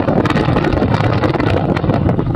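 A motorbike carries riders along a village road in Hemnagar, Sundarbans, with loud, steady wind buffeting the microphone and engine rumble underneath, continuous throughout.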